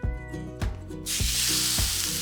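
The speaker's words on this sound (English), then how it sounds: "listen to that sizzle" An elk roast sizzles loudly in a hot pan, a dense steady hiss that swells after a moment, with soft rhythmic music beneath.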